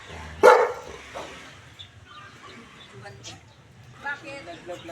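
A single loud dog bark near the start, followed by quieter yips and whimpers from the dog under ongoing human voices speaking Filipino.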